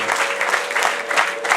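A brief burst of audience applause, dense clapping at moderate loudness with a faint steady tone underneath.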